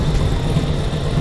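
A 1991 Mazda Miata's 1.6-liter four-cylinder engine runs steadily, a loud, even low rumble with no voices.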